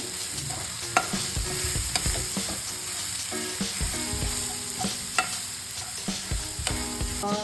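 Garam masala and coriander powder frying in a pan for boiled egg bhurji gravy while being stirred, a close, steady sizzle broken by repeated spoon scrapes and clinks, with no voices.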